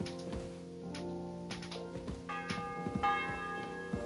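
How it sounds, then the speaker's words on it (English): Church bell tolling in Kingdom Come Deliverance 2, with repeated resonant strikes ringing over a dense, layered game soundscape. The bell sounds steady and moderately loud, with no talk. "Bell's ringing for Hans the 5th time."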